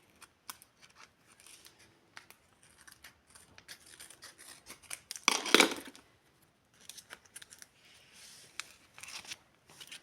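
Paper rustles, crinkles and snips close by as a paper surprise packet is opened, with scattered soft handling sounds and one louder tearing burst partway through.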